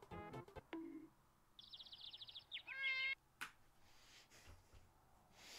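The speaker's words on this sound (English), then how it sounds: "Oh my god, the cat." A cat meows several times in a funny clip, its cries rising and bending in pitch, mixed with quick high chirping bird-like calls and a few sharp knocks, all fairly close and clear.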